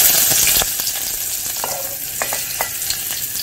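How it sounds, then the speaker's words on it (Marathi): Chopped onion drops into hot oil in a kadai for tempering a Marathi breadfruit bhaji, giving a loud initial burst of sizzle that settles into a steady close crackle with a few sharp stirring clicks. "थोडं तेल गरम झाल्यावर त्याच्यात फोडणीला कांदा टाकायचा."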